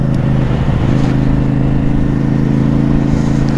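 CFMOTO 450 CL-C motorcycle riding with its warm engine running at a steady drone, close and loud, with constant road and wind rush.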